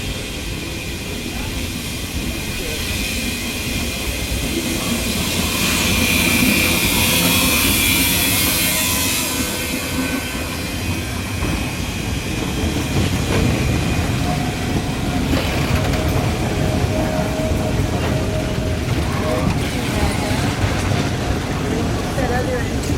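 A diesel train engine rumbles continuously nearby, steady and droning, while voices talk intermittently over it.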